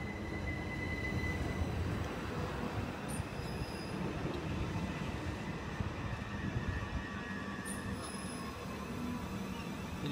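A Class 377 electric train, 377154, with eight carriages, rolls into the platform at Haywards Heath station from Hastings. It gives a steady rumble of wheels on rails and faint high squeals from the wheels, heard from the platform.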